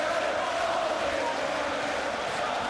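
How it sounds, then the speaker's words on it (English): Boxing crowd chanting at a fight, a dense, continuous roar of many voices in a large arena, steady and unbroken throughout. "The chants of the crowd go up once more."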